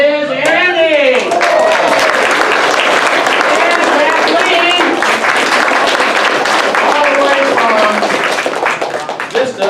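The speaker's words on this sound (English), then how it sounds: "Nice round of applause for them as they come out." Audience applause and cheering as members of an improv comedy troupe step out from behind a curtain, loud and sustained throughout, with whoops and voices calling out over the clapping.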